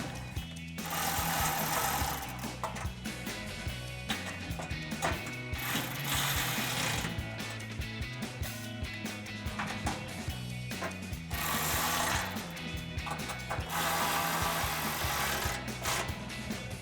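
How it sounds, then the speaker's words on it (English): A ratchet with a 10mm socket tightening exhaust nuts on a Jeep Gladiator JT gives dense, continuous clicking and mechanical rattling, loud and close, with brief dips between spells of turning. "we'll grab a 10mm socket to tighten these down"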